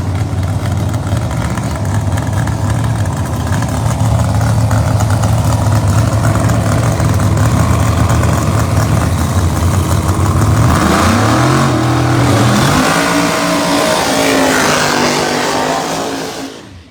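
Jerry Bickle ATI Performance Products drag race car, driven by Chris Reaney, loud and close at a test session: a steady throaty idle for about ten seconds, then repeated sharp revs climbing and falling before cutting off.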